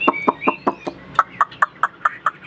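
A large bird kept and shown by a Vietnamese bird fancier gives a run of about a dozen sharp, evenly spaced clucking calls, close and loud, with no talk over them.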